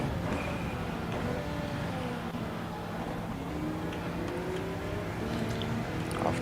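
Race car engines run qualifying laps in a racing video game, a steady, continuous drone whose pitch climbs and shifts as the cars accelerate, with no talk over it.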